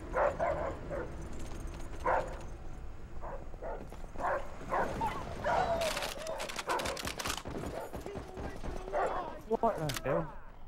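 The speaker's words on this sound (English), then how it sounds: "Bring in the dogs!" Attack dogs bark in a Call of Duty: World at War multiplayer match, several close, sharp barks scattered through a busy mix of game sound effects and voices.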